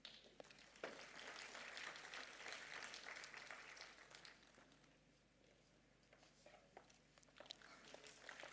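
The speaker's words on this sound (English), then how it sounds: "please give another round of applause for our esteemed guest of" Applause from a conference audience, heard faint and distant: a steady wash of many hands clapping that dips briefly midway and then swells again.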